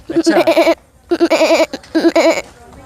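A man imitates a goat's bleat with three quavering, wavering bleats separated by short pauses, loud and close, with no other sound around them.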